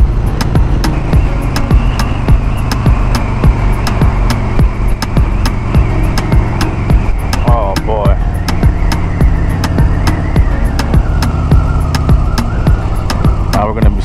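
A Harley-Davidson motorcycle climbs slowly uphill toward Bear Mountain in heavy traffic behind a truck, its engine rumbling low and steady throughout with wind noise, while the rider talks over it.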